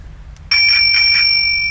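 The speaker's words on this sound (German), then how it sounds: "Ja, eine Klingel." A bicycle bell gives one bright, close ring over a low background hum, its metallic tone fluttering briefly and then holding steady as it fades.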